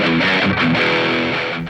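A loud, sustained distorted chord from a Davie504 signature electric guitar rings out and slowly fades, with no voices.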